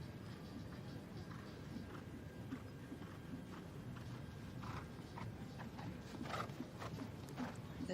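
Horse hooves clip-clopping on the arena surface during a para dressage test at the FEI European Championships, with a steady rhythmic beat at moderate distance, with faint tack creaks and soft background noise.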